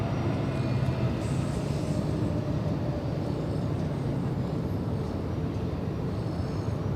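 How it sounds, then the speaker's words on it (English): A blue Hawaiian Airlines airliner in special livery passes low overhead on final approach to land at LAX, its steady broadband jet roar loud, close and unbroken throughout. "Special livery, blue plane flying right overhead, and Hawaiian Airlines"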